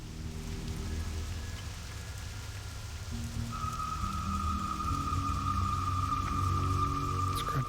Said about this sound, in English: Some rain in Hillsbrad today.